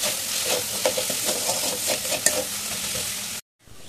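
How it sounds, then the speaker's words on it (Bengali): Potatoes with spices and turmeric are fried and stirred in a pan alongside rohu fish, giving a steady close sizzle broken by rhythmic spatula scrapes, ending in a brief silence before the frying resumes. "এই যে আলু দিয়ে ভালোভাবে নাড়াচাড়া করা হয়ে গেছে।"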